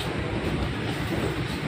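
A metro train running, heard from inside as a loud, steady low rumble and rolling noise with no pauses, filling the whole short stretch.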